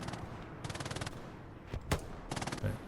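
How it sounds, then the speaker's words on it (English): Bursts of MG-42 machine gun fire in the WWII shooter Hell Let Loose at Elsenborn Ridge, rapid buzzing volleys in three short stretches with a couple of single heavier thumps between, moderately distant amid battlefield ambience. "You can hear those buzzing sounds of the MG-42s"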